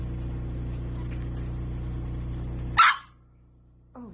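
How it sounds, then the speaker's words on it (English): A Labrador puppy in a home in Delhi gives a single sharp bark after a steady low hum, followed by quiet and a faint rising squeak at the end. "Are you barking at me?"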